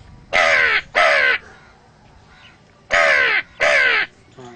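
A voice mimics the caw of a mountain crow: two raspy, forceful caws back to back, a short silence, then another matching pair, loud and close.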